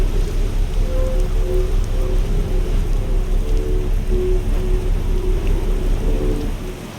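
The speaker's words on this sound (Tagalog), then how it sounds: "Sarap din sa tenga ng ulan." Steady rain in the video game Outer Wilds, a dense, even hiss of falling drops with a low rumble underneath, holding level throughout before easing slightly at the very end, with no voices.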